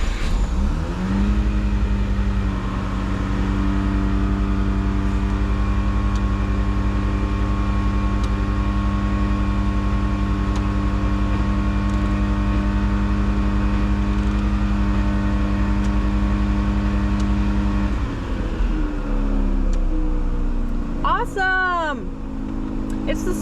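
A Mazda RX-7 FC rotary engine runs close and loud with a steady, even hum, its tone shifting near the end as a short chirping squeak rises above it.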